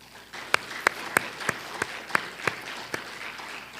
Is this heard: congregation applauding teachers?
yes